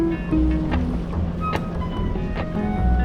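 A sailboat motoring under engine power hums with a steady low drone, mixed with water wash and intermittent knocks aboard, close and fairly loud throughout.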